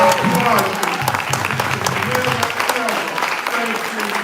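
A crowd at a Malcolm X commemoration applauds Angela Davis with loud, sustained clapping, while a voice carries on underneath.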